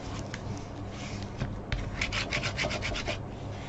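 A leather edge being burnished by hand, making a steady, close rubbing friction that rises into rhythmic back-and-forth strokes toward the end, with no talk.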